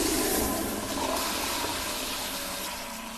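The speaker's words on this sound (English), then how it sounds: "I quickly stepped onto the toilet and activated the flush" A toilet flushes in a loud, close, rushing gush of water that swirls and slowly fades over a few seconds, with no voices.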